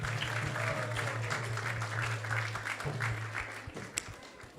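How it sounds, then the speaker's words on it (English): Audience applause at an evening gathering of an ISKCON temple community, steady dense clapping over a low hum that thins slightly toward the end. "So let's give them a big round of applause on all of you as well."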